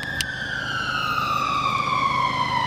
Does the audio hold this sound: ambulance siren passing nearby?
yes